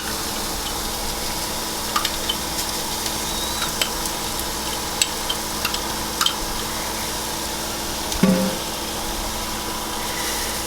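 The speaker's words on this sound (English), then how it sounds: "You want your tomato paste to cook. Okay? Get it mixed in with those onions and garlic" Tomato paste cooks with onions and garlic in a pan, a steady, even sizzle throughout with faint scattered pops and one short clatter of stirring near the end.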